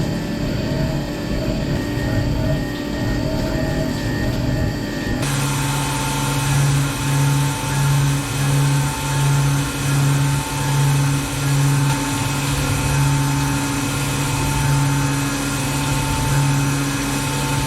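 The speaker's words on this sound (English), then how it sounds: "I can machine out the pockets for where the parts are going to go" A milling machine cuts pockets into a soft jaw for titanium and carbon fiber bottle opener parts, a steady motor hum with a pulsing, rhythmic tone through most of the stretch after an abrupt start.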